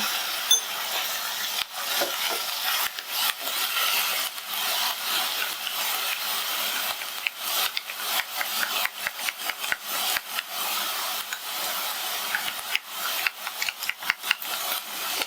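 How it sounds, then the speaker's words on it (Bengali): Ground spices being whisked briskly into sour yogurt for hilsa fish biryani, a steady scraping, rubbing rasp with quick repeated strokes, close and continuous throughout. "এবার এই গুঁড়ো মশলাগুলো টক দইয়ের সাথে খুব ভালো করে ফেটিয়ে নেব"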